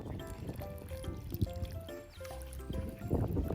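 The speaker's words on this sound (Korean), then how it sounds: "구멍 안에 모종을 넣고 모종을 넣은 채로 구멍에 물을 부어주세요" Water poured from a container into a planting hole around a chili seedling in garden soil, a steady close trickle and splash with brief gaps, outdoors.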